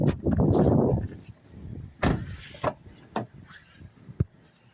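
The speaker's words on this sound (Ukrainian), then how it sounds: "Відкрити двері." A car door on a 2015 Hyundai Elantra is handled close up: a rustling shuffle, then a sharp unlatching clunk followed by several smaller knocks and clicks of the door and its hardware.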